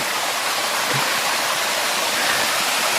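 Water pours steadily at a natural spring that supplies a village, a dense, continuous rushing and splashing like a small waterfall or stream, close and even throughout with no voices.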